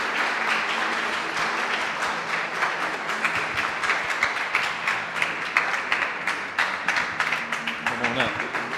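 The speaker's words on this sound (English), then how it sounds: "Let's give them a great big hand clap of praise." An audience applauds steadily at a live podcast stage event as guests are called up, sustained dense clapping that lasts throughout, with voices faintly mixed in.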